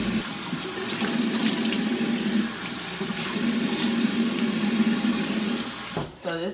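Water runs from a sink tap in a steady close splash while hands and face are washed, with a voice talking over it and the flow stopping near the end.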